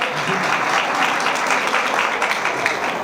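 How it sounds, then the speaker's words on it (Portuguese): Audience applause at a union training course lecture, steady dense clapping from a crowd holding at an even level throughout, with no voices over it. "Estão aplaudindo para eu parar de falar,"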